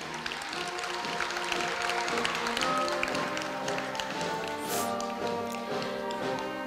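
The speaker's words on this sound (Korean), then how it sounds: "다시 한번 축하의 박수 부탁드립니다" Congratulatory audience applause for award winners at a Korea University anniversary ceremony, a steady patter of clapping under sustained background music throughout.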